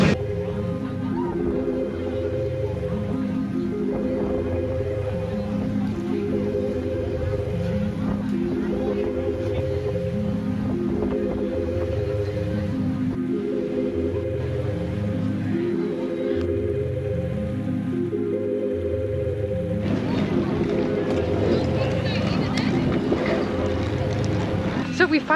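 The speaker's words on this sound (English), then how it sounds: "It's still a fancy, big, giant ferry." A big passenger ferry on the crossing to Rottnest Island drones with a deep, rhythmic engine throb that pulses evenly throughout, joined near the end by a burst of wind and water rush.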